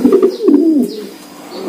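Pigeons kept in a box cage give soft, close, throaty coos in short rolling phrases, with faint chirps in between.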